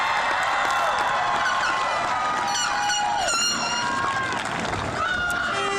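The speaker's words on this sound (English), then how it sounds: "give a round of applause for my peers" A graduation ceremony crowd for the class of 2022 applauds and cheers at a distance. The clapping is dense and mixed with whoops and high whistles, and voices come through the noise.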